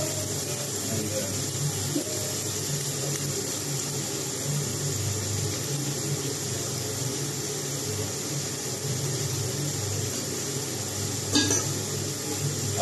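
Shrimp fried rice being stir-fried in a pan, with a steady close sizzle and occasional scraping and stirring clatter running continuously, plus one brief sharp clink near the end; no speech.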